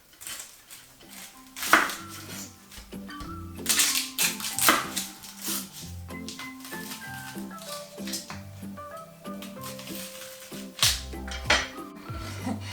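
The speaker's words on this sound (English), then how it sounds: "we're going to need one large onion, and I'm just going to chop it up" Knife chopping a large onion on a board for bean soup, irregular close taps and clatter with some dish and utensil knocks, no talk.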